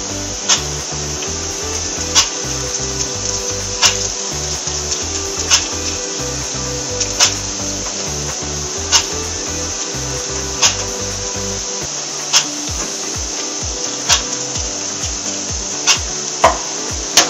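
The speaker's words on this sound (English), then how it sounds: "Clean the fluid tip and fluid entry passageway aggressively with the flow brush." A flow brush scrubs the fluid tip and fluid entry passageway of an E800A spray gun. Rhythmic scraping strokes repeat about every one to two seconds, close and fairly loud, with no talking.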